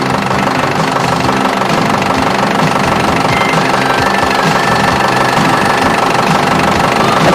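A steady, loud Toyota forklift engine idles continuously with a rough, knocking mechanical rumble throughout, no voices.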